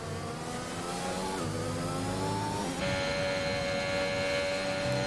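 Formula 1 race car engine from the F1 2021 video game at the British Grand Prix pit lane, a steady loud mechanical whine with harmonic tones that shift pitch as the car revs and changes gear, continuous with no talk.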